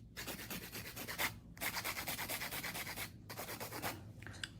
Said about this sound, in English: Support it while you're doing hand filing.